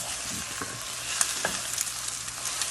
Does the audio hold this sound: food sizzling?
yes